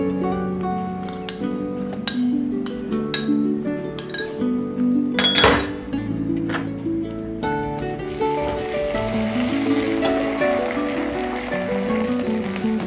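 Cumin and chili paste join ginger-garlic paste in oil, with clinks and scrapes of a spoon against the pan over a low sizzle that swells and steadies toward the end, heard up close.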